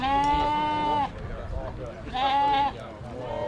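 Sheep bleating at a New Zealand A&P show, two long wavering calls with a pause between, fairly close and loud over crowd and hall murmur.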